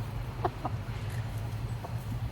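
A chicken in a garden gives a few short, soft clucks spaced irregularly over a low steady background hum, faint and somewhat distant with no talking.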